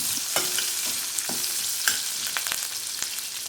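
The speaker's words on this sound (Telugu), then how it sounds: "ఇవన్నీ కూడా చక్కగా గోల్డెన్ బ్రౌన్ కలర్ వచ్చే వరకు ఫ్రై చేసుకోవాలి" Green chillies and curry leaves fry in hot oil in a pan with a steady crackling sizzle, broken by several sharp scrapes and clinks of a spoon stirring, close and loud with no talking.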